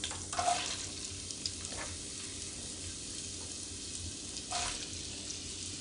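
Carrots, onions and cabbage hit melted butter in a soup pot, giving a soft, continuous sizzle with a couple of brief louder bursts as the vegetables are added and stirred.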